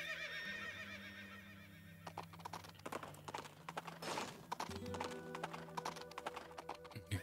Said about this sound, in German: das Pferd ruft dich